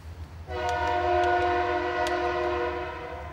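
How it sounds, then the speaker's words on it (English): A train passes loudly nearby with its horn blaring a steady multi-tone chord, starting abruptly and holding over a low rumble of the rolling cars. "Loud train."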